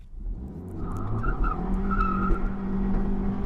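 Suzuki Swift Sport Turbo Hybrid launching hard in first gear, its engine note rising steadily while the tyres squeal loudly and continuously, close and dominant throughout.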